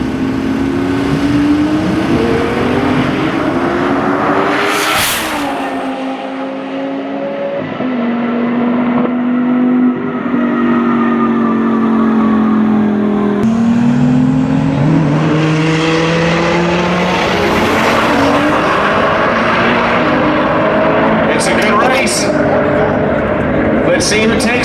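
A 2000HP twin-turbo sequential-shift Dodge Viper V10 on street tires screams through rising, near-continuous pulls with quick gear changes toward 200 mph on a street course, loud and close, with other engines and talk mixed in.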